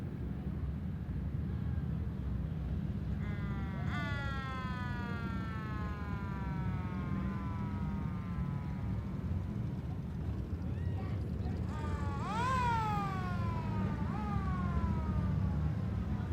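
A World War II ambulance siren wails in the distance at a Veterans Day parade with rising and falling tones, heard in bursts over a steady low rumble of idling engines and crowd noise.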